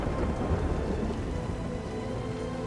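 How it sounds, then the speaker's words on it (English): Steady heavy rain with a low rolling rumble of thunder in a dramatic scene from the fantasy series Rings of Power, a continuous wash of noise with no voices. "Did he make it rain"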